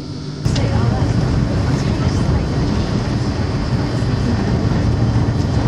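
Eurostar high-speed train accelerating toward 300 km/h, a loud, dense broadband roar of wheels and air rushing past, starting abruptly and holding steady as if heard from on board.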